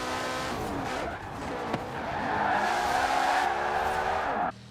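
A 1,441-horsepower car in the Forza Horizon 4 racing game, its engine roaring loud and steady with harmonic whine as tires squeal and skid, the sound dropping off abruptly near the end.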